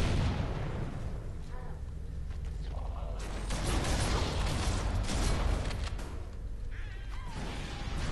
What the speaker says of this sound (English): I can hear the grunts down there exploding